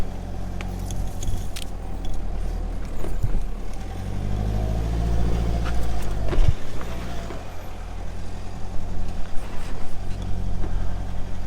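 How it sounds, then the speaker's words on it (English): A vehicle towing a trailer drives on beach sand at Point Culver, Western Australia, its engine droning steadily with some wheel slip and traction control surges, plus occasional rattles and clunks. "A little bit of wheel slip, a little bit of traction control action."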